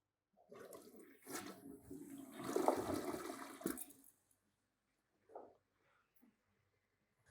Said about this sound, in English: This is what releases the water to flush the toilet.